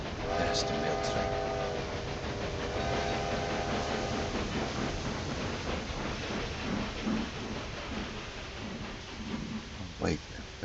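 Mail train in the railway strategy game Railway Empire 2, a continuous rolling rumble with short tonal whistle or horn blasts early on and a sharp clank near the end, with someone talking over it.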